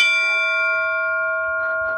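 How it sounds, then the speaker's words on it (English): A bell at Presque Isle lighthouse in Michigan rings out on a single strike and hums with a sustained, ringing tone that slowly decays, loud and close, with faint background murmur and no speech. "I found another bell."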